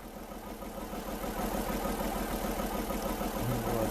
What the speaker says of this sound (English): Just get the tractor and the trailer over here by the field.